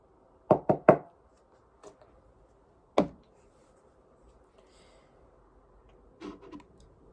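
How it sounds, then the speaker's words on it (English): Knocks on a door made as foley for a steampunk production: a quick cluster of three sharp raps, a softer tap, a single loud knock, then a faint rattling pair near the end, each clean and close against silence. "Knocking on door."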